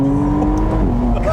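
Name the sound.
McLaren Artura Spider V6 engine revving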